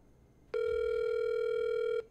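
A phone call to a friend named Phil rings out as one steady electronic tone with bright harmonics, lasting about a second and a half and then stopping, with no talk over it.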